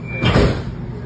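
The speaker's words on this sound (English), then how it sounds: "Please stand clear. Doors are closing." Doors close on a Lynx light rail train, a brief muffled thump and rush over the steady rumble of the car interior.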